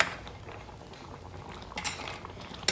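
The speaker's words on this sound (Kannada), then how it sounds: "ಒಂದು ಒಳ್ಳೆ ಕುದಿ ಬರ್ತಾ ಉಂಟು" Ripe Mangalorean mango curry at a rolling boil in a pot gives a steady close bubbling and simmering hiss, with no talk over it.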